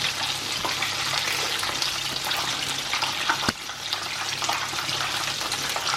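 Chicken pieces for crispy chicken sandwiches frying in hot oil, a steady dense sizzle and crackle that runs unbroken throughout, with one brief sharp tap partway through.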